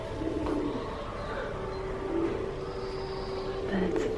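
Pigeons or doves cooing inside a natural history museum display, a soft repeated coo carrying faintly under a steady room murmur with people talking nearby.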